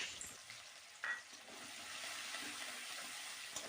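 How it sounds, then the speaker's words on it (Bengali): Chopped medium onions fry in hot oil, a steady close sizzle that hisses and crackles throughout, with a brief stir-like clatter near the start. "পেঁয়াজটা বেশ ভালো করে ভেজে নিতে হবে, একদম লাল লাল করে ভেজে নেব।"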